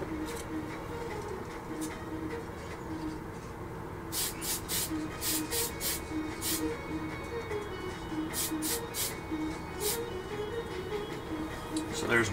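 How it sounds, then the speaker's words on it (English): Short bursts of Mr. Surfacer 1500 primer from a spray can being applied to a 1/48 F-15K model kit, several quick hissing puffs in two clusters over a low steady room hum. "I'll just give that a quick coat, quick little spray."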